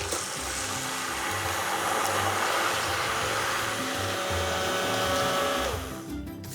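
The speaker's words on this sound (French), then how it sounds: "maintenant on peut mixer" Blender mixing eggs, milk and vanilla for pain perdu roars in a loud, continuous whir for about six seconds before winding down at the end.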